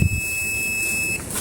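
Steady high-pitched continuity beep from a multimeter probing the negative terminal of a car stereo wiring, sounding alone for about a second before cutting off, then a brief second beep.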